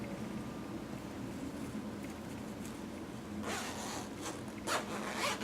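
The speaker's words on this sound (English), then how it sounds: "make sure that everything zips closed" A zipper is pulled closed on a sewn vintage dress, a steady scratchy zip with a few louder rasping strokes near the end, close and clear with no talk.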